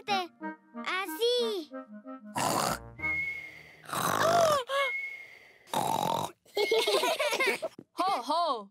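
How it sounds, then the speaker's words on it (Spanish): A cartoon pig character snores loudly in a Spanish-dubbed Peppa Pig episode, giving a few harsh, raspy bursts between bright, animated character voices talking. "Papá dice que siempre te duermes y roncas muy fuerte."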